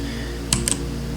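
Two quick key presses of a Control+C shortcut on a computer keyboard sound close and brief over a steady background hum.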